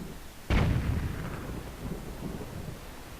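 A cannon shot from The Legend of Zelda: The Wind Waker's Sploosh Kaboom minigame booms once, sharp and loud, then fades into a low, rumbling tail of splash and water noise.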